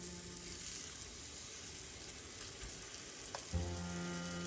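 Chicken pieces sizzling in a pan over a medium flame, a steady, soft crackle of frying that continues throughout, with a faint tonal hum entering near the end.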